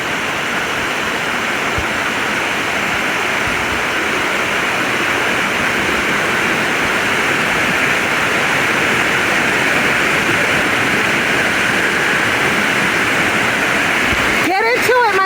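Dunn's River Falls in Jamaica roars as a loud, steady broadband rush of cascading water, constant throughout, with a brief disturbance near the end.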